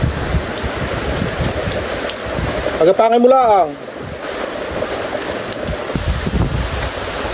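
Steady rain patters on a surface throughout, with a short burst of someone speaking partway through.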